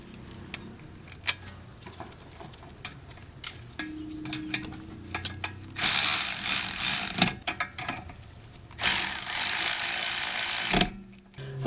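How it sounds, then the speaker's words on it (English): Ratchet and hand work on brake caliper slide pin bolts of a 2014 MINI Cooper: scattered close clicks and metallic taps, then two loud, sustained hissing whirs, likely a power ratchet, running a second or two each. "get our slide pin bolts started over here"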